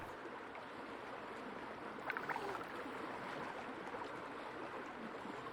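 A boat glides across a wide fog-covered lake in the video game Xanadu Next. Soft, steady water rushing and lapping carries on throughout, with a few faint splashes near the middle and no talking.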